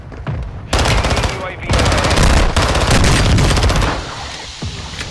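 Sustained bursts of automatic machine-gun fire in a military shooter game, loud and dense, rattling almost continuously with brief gaps before tapering off near the end.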